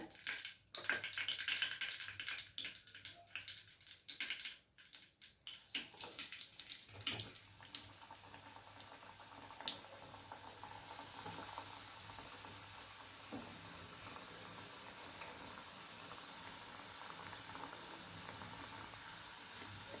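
A Maharashtrian faral snack drops into hot oil with splashy handling noise, then settles into a steady, close crackling sizzle of deep frying that runs on alone.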